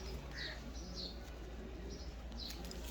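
A pigeon held in someone's hand gives soft, faint coos and a few thin chirps over a constant low background hum, quiet and close.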